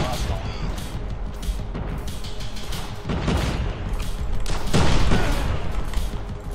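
Dense, continuous gunfire and explosive blasts from the mobile shooter Call of Duty Mobile, played in a rockets-only match, with bursts swelling louder toward the end.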